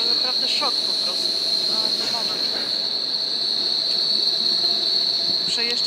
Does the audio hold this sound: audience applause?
no